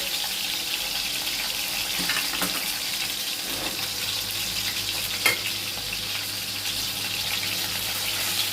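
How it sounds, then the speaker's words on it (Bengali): Steady, crackling sizzle of bele fish (sand goby) frying in hot oil, close and continuous throughout, with an occasional small clatter. "এভাবে বাদ বাকি মাছগুলোকে ভেজে নিচ্ছি"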